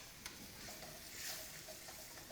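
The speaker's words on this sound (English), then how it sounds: "Our mushrooms are sauteing." Mushrooms sauté in a pan with butter and wine, giving a faint, steady sizzle with light stirring scrapes throughout, no talking.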